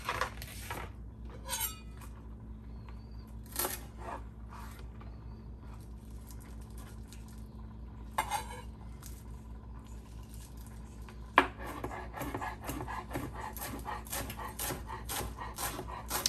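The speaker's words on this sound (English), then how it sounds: "I'm going to get our parsley chopped up." Fresh parsley being chopped with a knife: sparse clicks and taps on a board give way to a quick, steady run of sharp, close chopping strikes.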